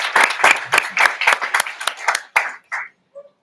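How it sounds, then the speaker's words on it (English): Applause from an assembly audience at a veterinary student symposium general assembly, a dense patter of clapping that thins out and fades to a few scattered claps before stopping. "One more round of applause for our beautiful regions."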